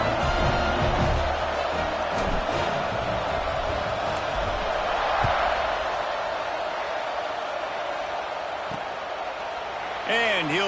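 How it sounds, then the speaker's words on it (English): A football stadium crowd at an FSU versus Pittsburgh game buzzes steadily after a score, a dense continuous roar of many voices that holds at a constant level throughout. "this crowd is buzzing after that last score"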